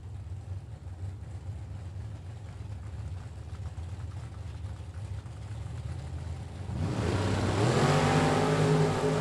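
At a drag strip, a '62 Chevy II and a Camaro rumble at the line with a low engine drone, then launch into a loud rising howl of revving engines for the last few seconds.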